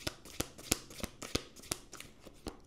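Tarot cards are shuffled by hand, giving a quick run of close, crisp riffling clicks and flutters in an uneven rhythm, faint overall and with no voices.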